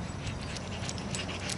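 A dog pants quickly and lets out thin whimpers up close, a short burst of breathy rhythm with no talking.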